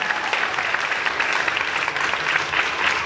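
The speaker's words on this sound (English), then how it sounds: "Round of applause." Audience applause following a Faraday cage performance, a dense, even patter of clapping that holds steady for the whole stretch without a break.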